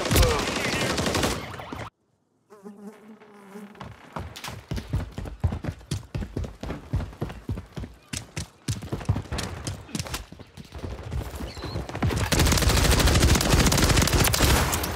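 Gunfire in a Call of Duty video game comes as rapid bursts of automatic shots and heavy, dense firing, loud and close, with a brief silence early on.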